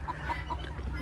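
Chickens cluck softly in a farm enclosure, with a few short, mid-pitched calls spread across a steady bed of low outdoor noise.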